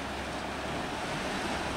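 Sea waves wash steadily against a rocky shore beside deep water at a fishing spot, a continuous close roar of surf mixed with wind buffeting the microphone, with no voices.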